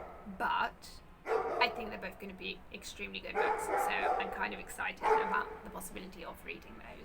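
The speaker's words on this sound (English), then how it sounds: "Sorry about the dog barking." A dog barking repeatedly in a city apartment block, several sharp yips scattered through the span, somewhat in the background while a person talks continuously over them.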